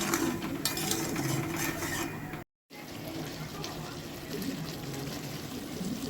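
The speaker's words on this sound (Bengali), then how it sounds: "আমি নারকেলের দুধটা এর মধ্যে দিয়ে দিচ্ছি" Coconut milk is poured into a spiced curry of pointed gourd and potato, a steady close liquid pour with a brief break partway through.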